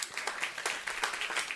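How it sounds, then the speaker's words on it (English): Audience applause at a Food is Medicine health event, a brief burst of scattered claps from a modest crowd, moderately loud with no voices over it. "Give them a round of applause."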